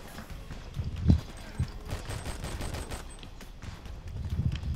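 Gunfire from the R.I.P.D. video game at a construction site, faint, scattered shots with one sharper report and a few clattering bursts, set against low background noise.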